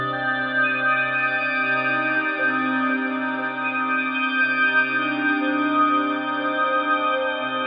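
A single sustained synth pad chord rings on, smooth and layered, washed in reverb with a slowly pulsing low tone beneath.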